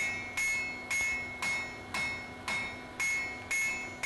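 A blacksmith hammers hot steel while forging an Anglo-Saxon adze, with eight sharp ringing anvil strikes falling at a steady, even pace, loud and close, with no talk.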